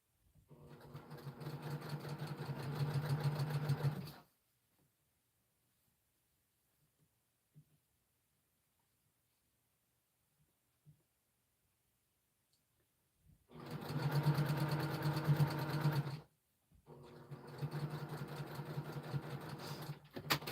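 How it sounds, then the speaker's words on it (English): Sewing machine stitching quilt seams, steady close mechanical whirring in three bursts, a long run, a long pause, then two shorter runs separated by a brief stop. "I want to make sure my seams are laying correctly before I get to the needle."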